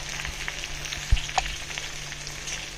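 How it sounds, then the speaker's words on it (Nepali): Bay leaf dropped into hot oil for a pork curry, giving a short, steady sizzle with a small thump and clink in the middle. "म चाहिँ पिक्चरमा यो तेजपत्ता हाल्छु."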